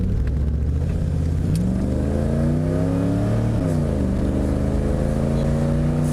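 A 1988 Pontiac Trans Am accelerating hard through the gears, its engine note climbing steadily, dropping at each upshift and climbing again, loud and close from inside the cabin with no talk.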